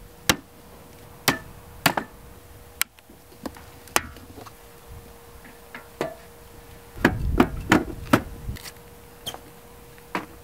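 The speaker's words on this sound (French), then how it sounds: "Maintenant, tu fixes les planches avec les pattes de fixation." WPC composite terrace boards being fastened down with fixing clips, heard as sharp isolated knocks and taps spaced irregularly, then a denser cluster of rapid impacts near the end, with no talking.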